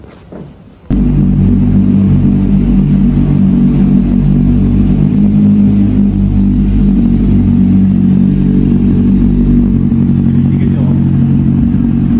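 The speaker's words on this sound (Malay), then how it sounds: "untuk motor besar ni sepatutnya kau start sampai RPM dia jatuh baru kau boleh jalan" A Kawasaki Z800 motorcycle engine fires up abruptly after a brief pause and then idles loudly and steadily with a deep throbbing rumble, close to the listener.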